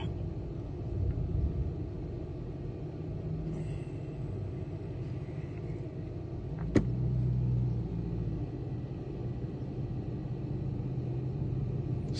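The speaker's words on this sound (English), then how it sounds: "this truck that's driving by me that was making the engine sound" A truck drives past in a parking lot with a low, rumbling engine that holds steady and swells slightly midway, accompanied by a brief sharp click and some faint background traffic, with no one talking.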